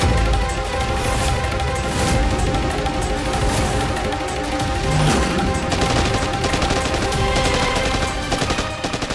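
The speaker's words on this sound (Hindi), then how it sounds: "हिंदुस्तानी गोली चला रहे हैं, तुम भी जवाब दो।" Loud, sustained bursts of automatic gunfire rattle continuously, dense and close, with no pauses, in an exchange of fire around a stopped vehicle.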